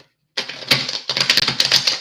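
Tarot cards that shuffle poorly, stiff like vinyl blinds, riffled and cut by hand close up: a sudden burst of dense, crackly flapping after a brief silence, then a second run of rapid papery clicks.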